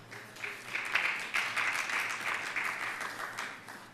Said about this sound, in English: A big applause for the panel, guys.